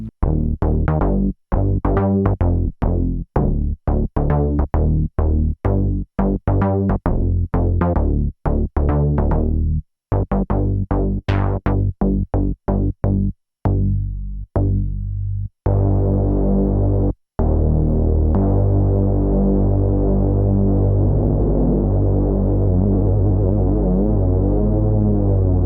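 Yamaha Reface CS synthesizer played with the octave lowered and the filter cutoff turned down, a run of loud, dark, buzzy bass notes in short staccato stabs that give way to long sustained held tones, with no talking.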